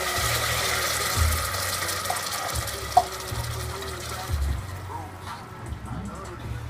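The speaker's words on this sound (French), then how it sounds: "il va déglacer le tout à l'eau" Water poured into a pan of fried onion and garlic cooked in olive oil to deglaze it, a steady watery rush and sizzle under a person speaking French.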